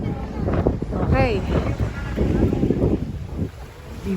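Strong wind buffeting the microphone with a surf wash underneath at a beach resort, a steady blustery roar throughout while people talk over it.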